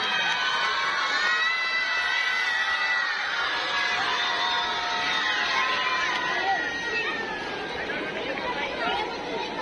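At a school Children's Day prize ceremony, a crowd of children cheers and shouts loudly for the school team, a dense, continuous roar of young voices throughout.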